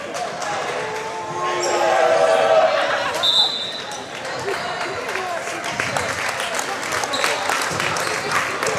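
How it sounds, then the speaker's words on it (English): Crowd applause fills a gym at a high school basketball game between the Washington Demons and Fairfield Trojans, swelling and fading over several seconds alongside scattered ball bounces and indistinct voices. "And he'll check out, get some applause along with Bowden Brown."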